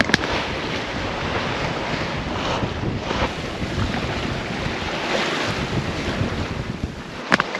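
Strong upwind blows across a sailboat at sea on a solo Pacific passage from Panama to the Marquesas, with loud, continuous gusting wind roaring over the microphone and waves washing against the hull.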